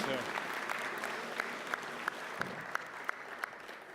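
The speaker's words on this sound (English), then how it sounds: "Give her a round of applause, ladies and gentlemen." Audience applause at a roast, dense clapping from a crowd that holds steady throughout, with several sharp, louder claps standing out near the end.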